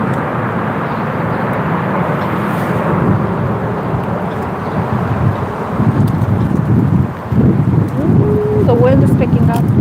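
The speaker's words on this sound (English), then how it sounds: "Ooh, the wind is picking up." Wind picks up outdoors as a loud, continuous broadband roar, gusting slightly stronger toward the end, with a brief higher squeak near the close.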